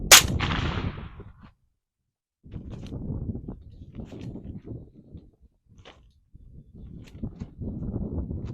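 A single sharp suppressed shot from a direct blowback gun fitted with a Dead Air Wolfman silencer opens the clip and quickly decays, followed by quieter rustling and handling noises outdoors.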